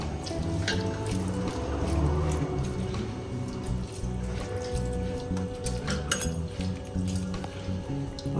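Wet, squishy kneading as ingredients are crushed by hand into warm rice gruel for Kerala pazhamkanji, with soft slopping and dripping close by, steady throughout.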